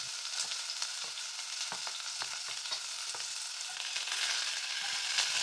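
Chopped onion sautéing in coconut oil in a pan for noodles, a steady close sizzle with soft scattered stirring clicks and scrapes throughout, no voices.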